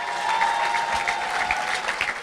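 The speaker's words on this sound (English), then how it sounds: "Big round of applause." Audience applause at a chamber of commerce awards dinner, a banquet crowd clapping steadily and loudly, with a faint tone running underneath.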